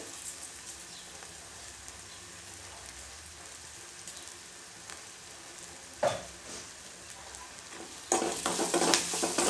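Food frying in a pan for a breakfast dish, with sugar just added: a steady low sizzle throughout, then a louder burst of frying and stirring near the end, with no talk.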